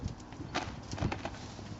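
Hooves of a young colt working near a flag, a few irregular soft thuds and scuffs at close range over steady background noise.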